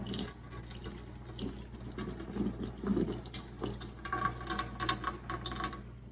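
Etched dinnerware held under a running kitchen tap, water splashing steadily into the sink with a broadband hiss and shifting gurgles throughout, close and alone without voices.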